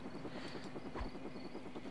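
Helicopters in the video game American McGee's Alice, a steady rhythmic rotor chop with a low thumping pulse, moderately loud and continuous throughout with no talk.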